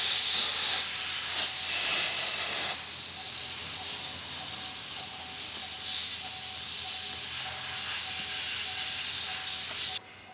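Wiping and cleaning around the oil drain area of a 2023 Honda HR-V after an oil change, with harsh rubbing and spraying hiss in bursts for the first few seconds, then a quieter steady rub.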